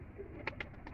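High-flyer pigeons cooing in a loft: a faint, quick series of about four short throaty pulses over a low background hum, with no voices.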